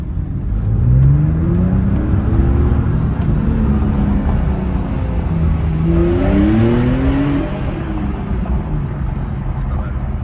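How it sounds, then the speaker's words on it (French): Porsche 911 GTS engine accelerating in Dubai: a loud, steady engine note with rising harmonic sweeps as it revs up, running throughout, with a second climb near the middle. "Petit bruit sympa quand ça accélère."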